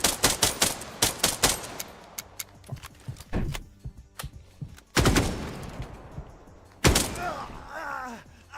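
A frag grenade and gunfire in the retro tactical shooter game Dagger Directive: rapid bursts of shots, then two heavy blasts with trailing rumble and faint vocal sounds.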